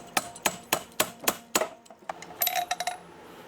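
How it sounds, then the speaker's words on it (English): A hammer strikes metal compressor fittings and 90-degree conduit pieces on a homemade shop compressor: six evenly spaced, ringing taps, then a looser scatter of lighter metallic clinks and rattles. "Get your finest hammer out."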